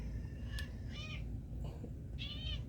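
A house cat meows several times in short, separate calls, close and fairly clear over a low steady background hum, with no talking.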